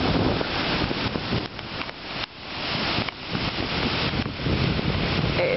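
Water of the Seveso river in Milan rushes in from an inflow as a loud, continuous broadband roar, partly buffeted by wind on the microphone, with no voices heard.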